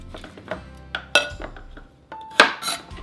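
A kitchen knife chops through the ends of two unpeeled carrots on a cutting board, giving several sharp, close knocks and clinks spaced irregularly, with a louder pair of cuts near the end.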